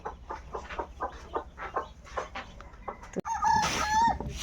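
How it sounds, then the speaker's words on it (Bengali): Hens cluck in short repeated bursts, then a rooster crows loudly and close by in a long drawn-out call. "মোরগ ডাকতেছে"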